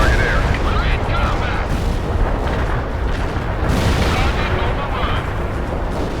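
Heavy artillery barrage in World in Conflict, a dense, continuous rumble of booms and blasts layered thickly over one another at close range, with voices speaking over the bombardment.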